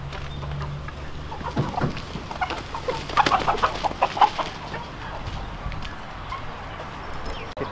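Chickens clucking in a backyard flock of giant Indian gamefowl hens and young birds, scattered close clucks and short calls over a faint steady background, busiest in the middle.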